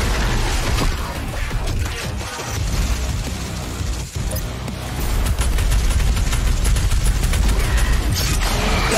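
Loud, dense combat din from DOOM Eternal's Super Shotgun, heavy blasts packed together with mechanical clatter and crashes in a continuous barrage, with no speech over it.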